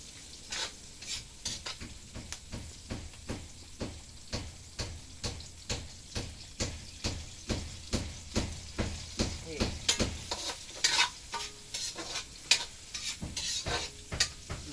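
Garlic, onion, tomato and green chili sauté in a pan with a gentle sizzle, while a utensil scrapes and stirs in a steady rhythm of about two strokes per second, close and clear.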